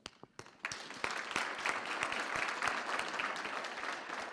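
A graduation ceremony audience applauds the graduates, scattered claps at first quickly swelling into dense, sustained clapping from a large crowd, fairly distant and even.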